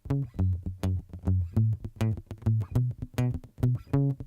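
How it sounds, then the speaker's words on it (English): Palm-muted guitar bass line for a loop on a Boss RC30 looper: short, fat, damped low plucks in a steady syncopated groove, close and quiet, no talking. "So what I do is I fatten up by palm muting."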